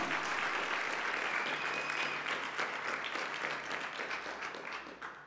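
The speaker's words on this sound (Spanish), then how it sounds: "Dale un aplauso al Rey." Congregation applauding in a church during a sermon, a steady crowd of clapping hands that stays fairly faint and fades gradually toward the end of about five seconds.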